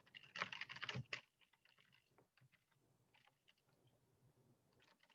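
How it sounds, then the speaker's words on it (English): Quick typing on a computer keyboard while entering an ipconfig command, a loud dense burst of keystrokes at first, then scattered lighter taps, nearby and without talk. "I'm actually typing with two hands, which is again a miracle"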